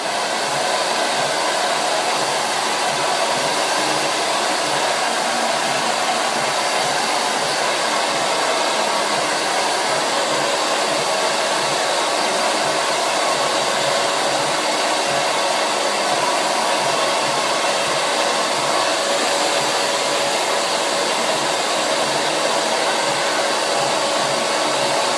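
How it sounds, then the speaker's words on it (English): A hair dryer blowing on wavy hair, a loud, steady whooshing roar held close and constant throughout with no pauses. "you're going to blow dry everything around in the middle here up while you're blowing your fringe"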